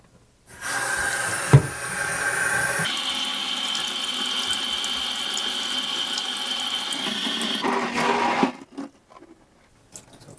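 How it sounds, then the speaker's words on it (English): Water sprayed down the hole of a Bissell Crosswave Pet Pro mop, a steady hissing jet running for several seconds after a brief click, then stopping abruptly with a few small clatters. "I'm gonna spray water down that hole."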